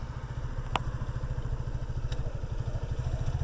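Motorcycle engine pulling away in first gear without the clutch, a steady close-up pulsing putter with a couple of sharp clicks from the gear engagement, no voices.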